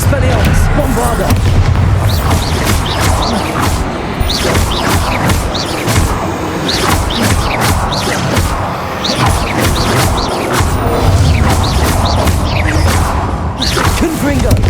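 Spell blasts cast one after another in the Hogwarts Legacy video game, a loud stream of booming impacts, crashes and whooshes repeating in quick bursts across the whole stretch.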